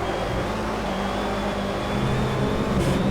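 A Renault Clio Cup race car engine from Project Cars drones steadily at high revs, a continuous buzzing roar with a faint whine, no voices.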